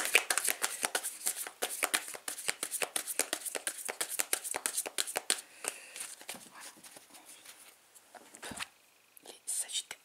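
A tarot deck is cut and shuffled by hand in rapid, close crisp riffles and card flicks, soft and papery, fading to a few light taps at the end.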